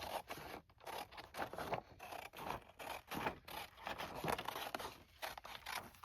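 Scissors cut through paper and chipboard for a journal in a long run of close, scratchy, rasping strokes that rise and fall rhythmically, with no talking.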